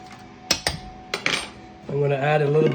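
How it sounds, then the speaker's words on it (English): Garlic and orange pieces are stirred into a rib marinade in a bowl, and a utensil scrapes and clinks against it in a few sharp knocks. A longer, wetter mixing sound follows near the end, with no talking. "And just mix that all in."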